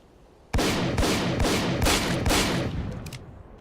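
Loud automatic weapon fire in S.T.A.L.K.E.R.: Call of Pripyat aimed at an object, a steady rhythm of heavy shots about every half second that starts abruptly and tapers at the end.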